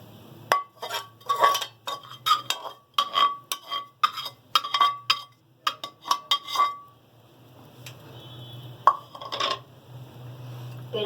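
Spices, freshly pounded nutmeg and mace, and fried onions mixed in a dish for white chicken biryani, with a metal spoon clinking repeatedly against the vessel in quick bursts, close, then a quieter pause and a final few clinks.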